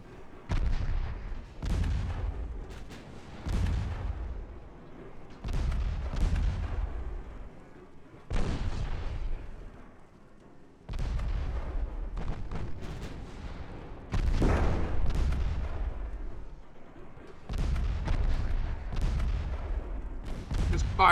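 Warship main guns fire in the naval battle game Ultimate Admiral Dreadnoughts, heavy booming salvos repeating every couple of seconds with rumbling tails, loud and close, with no voices over them.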